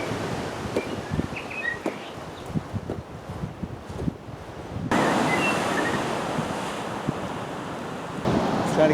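Ocean surf on Bonanza Beach, Haida Gwaii, a steady rushing wash of waves mixed with buffeting wind noise, growing louder and fuller partway through, with no voices.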